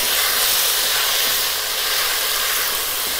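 Tomatoes frying in a pan for chicken pulao give off a loud, steady sizzle and hiss that carries on without a break and without any talk.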